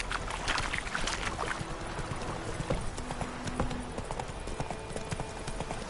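Horse hooves clip-clop at a steady riding rhythm in a fantasy role-playing video game, close and continuous over a soft outdoor ambience with light wind.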